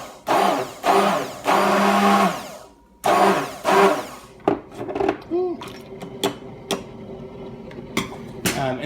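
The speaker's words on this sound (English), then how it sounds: "So you just take the immersion blender" An immersion blender whirs through coffee in bursts, running loudly for a few seconds, pausing, then starting again before tapering into short clicks and knocks.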